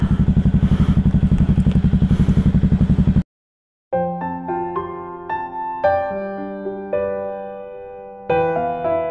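A motorcycle engine runs with a steady, fast, even pulsing thrum close by for about three seconds, then cuts off abruptly and is followed by music.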